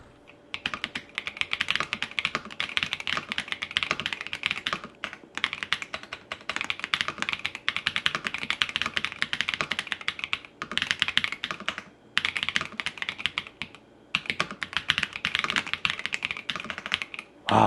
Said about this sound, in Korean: 타이핑도 한번 들어봐야 되겠죠